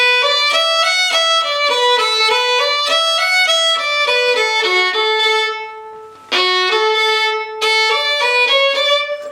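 A bowed fiddle plays the old-time tune Chinquapin Hunting, lively with steady, separated notes and double-stop harmonies, breaking off briefly near the end before resuming.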